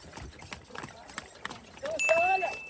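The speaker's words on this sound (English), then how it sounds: "we took a horse and cart to get lunch" Horse-drawn cart near the Giza pyramids, hooves clip-clopping in an irregular rhythm at moderate distance. A person talks over the hoofbeats, and a tonal whine rises near the end.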